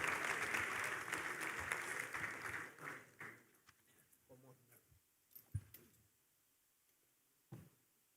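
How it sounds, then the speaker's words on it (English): Audience at an emerging markets forum in a full hall applauds steadily as a guest walks to the stage, the clapping fading out after a few seconds into quieter room sounds with a few isolated knocks. "please, a round of applause for Mr. Kohli as he approaches the stage"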